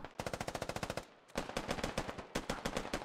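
Video game gunfire rattles out in fast automatic bursts. A tight string of rounds is followed by a short gap, then another long, loud volley.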